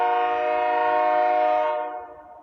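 A loud, sustained train horn blares in one long chord from a passing train about two blocks away, then fades away as it passes.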